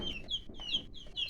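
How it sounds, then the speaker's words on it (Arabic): Newly bought baby chickens peep in short, high repeated bursts, a steady overlapping chorus of chirps with brief pauses between clusters, close by and fairly quiet. "صيصان دجاج"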